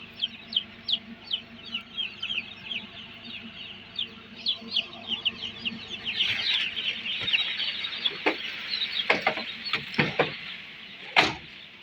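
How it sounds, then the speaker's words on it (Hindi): Chicks in a poultry control house peep in a quick, rhythmic chorus that swells into a denser, louder crowd of cheeps, with a few sharp clanks near the end. "फार्म में चूजा एंटर जी"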